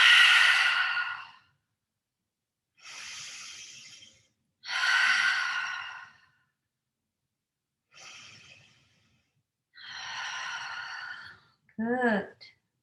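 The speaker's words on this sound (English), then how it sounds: "And take 3 deep breaths. Inhale through your nostril, exhale, open mouth." Three slow deep breaths, each drawn in through the nose and let out through an open mouth, heard as separate breathy rushes with pauses of silence between them, ending in a short voiced sigh.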